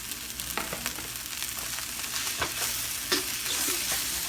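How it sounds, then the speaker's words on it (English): Shrimp and crab tossed into fried rice sizzle steadily in a hot pan, with scattered scraping and clattering stirs breaking through the continuous frying hiss; no voices. "When you add your shrimp and your crab, you're going to go ahead and toss it."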